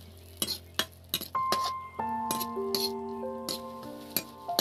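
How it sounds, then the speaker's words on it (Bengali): Raisins fry in ghee while a spoon stirs them, giving repeated sharp clinks of metal on the pan over a soft sizzle, with a faint tonal hum in the background. "ও ঘিয়ে চলছে বন্ধুরা ভাজা,"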